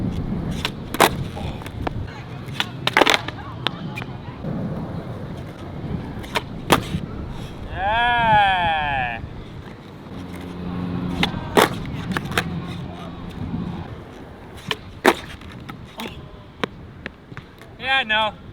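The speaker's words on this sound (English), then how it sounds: "Let's try a few tray flips, eh?" Several skateboard tre flip attempts on loose trucks, with sharp wheel-and-deck impacts on landing and bursts of rolling in between, close by.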